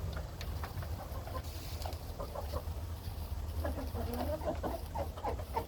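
A male chicken clucks in a series of low, throaty cackles at close range over a steady background hum, the calls growing busier toward the end.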